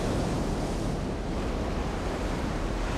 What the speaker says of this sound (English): Undeterred by the choppy waves and the overcast sky, Francisco takes in the Hawaiian beauty